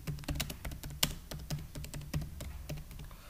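Computer keyboard typing while HTML code is written, a steady run of quick close key clicks with a few sharper, louder strikes, no voices.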